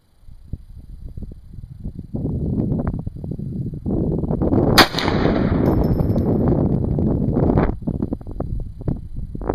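An AR-15 chambered in .450 Bushmaster fires a single sharp, loud shot near the middle, cutting through steady wind rumble on the microphone, followed by a brief ringing tail.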